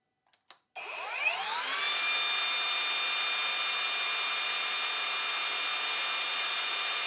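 A cordless brushless Evolution mitre saw spins up after a couple of clicks, its whine rising and settling into a steady, loud high-pitched drone that runs alone to the end.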